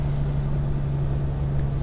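A steady low truck engine hum from the game American Truck Simulator idles continuously, smooth and unchanging, with no other sounds over it.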